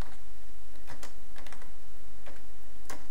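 Fingers typing a line of C code on a computer keyboard, a handful of irregular crisp clicks spread across a few seconds over a steady background hiss, close and clear with no one talking.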